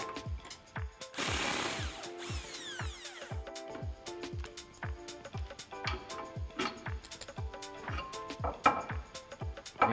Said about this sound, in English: we're gonna remove the shock mount nuts and bolts using a 21mm socket